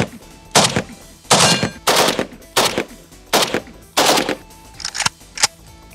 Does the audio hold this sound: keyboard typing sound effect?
no